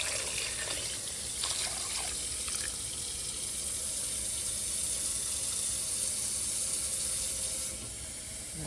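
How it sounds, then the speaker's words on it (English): Tap water running steadily into a soup pot, a continuous close hiss and splash that lasts throughout with no talking. "Adding the water."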